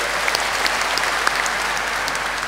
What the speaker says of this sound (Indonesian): Luar biasa, tepuk tangan untuk ITS.